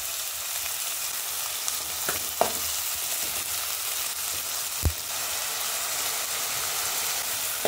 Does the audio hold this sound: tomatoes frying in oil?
yes